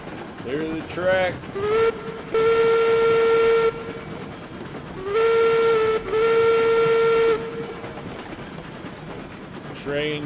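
A steam locomotive in the RailRoads Online game rolls past hauling tanker cars, sounding several long steam whistle blasts in two main bursts over the rumble of the train.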